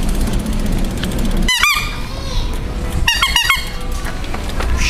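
Bicycle squeaking inside a store: two bursts of sharp, rising squeals, one short pair and then a faster cluster of four, loud against steady indoor background noise.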